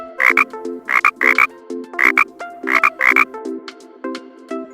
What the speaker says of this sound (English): The sound of frog.